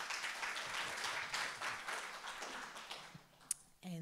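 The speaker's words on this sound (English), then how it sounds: "I think he deserves another round of applause." Audience applause at a symposium on democracy and press freedom in Namibia, a steady patter of clapping from a modest crowd that thins out, followed by a brief voice at the very end.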